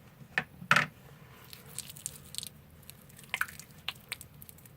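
Hair mayonnaise worked between the hands through thick 4C hair, giving soft wet squishing and sticky smacking sounds, with a few sharper squelches early on and quieter moist rubbing after, close and fairly faint.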